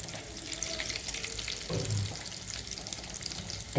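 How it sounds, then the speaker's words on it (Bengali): Soya cutlets fry in hot oil with a continuous bubbling sizzle and faint stirring, close and alone. "শুধুমাত্র এরকমভাবে ফ্রাই করে নিলেই হবে"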